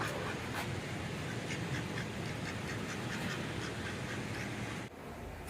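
A sick duck kept with a healthy female duck quacks in a short series of faint nasal calls over steady background noise, fairly distant.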